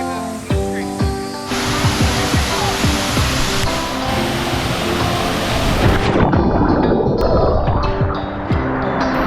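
A pool waterfall in Las Vegas roars steadily, loud and close, with a constant splashing wash of noise.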